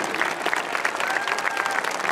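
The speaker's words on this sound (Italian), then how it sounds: "per ricevere all'unisono l'applauso di Vittorio Veneto e dell'Italia" Steady applause from a large crowd at a national paratroopers' gathering in Vittorio Veneto, Italy, dense clapping throughout at a fairly even level, with no voices standing out.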